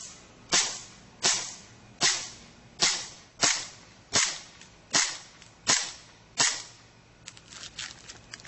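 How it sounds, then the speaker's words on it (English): A blowback airsoft 1911 pistol fires nine sharp, evenly spaced shots, about one every 0.7 seconds, each a loud crack with a brief snap of the slide cycling. A few faint clicks follow at the end. "Blowback action, you have some recoil, you have the slide functioning back and forth."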